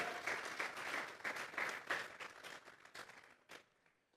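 A church congregation claps in a dense, sustained round of applause that is loud at first, then thins and fades to a few scattered claps by the end.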